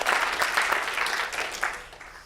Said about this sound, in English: Look at me begging for applause.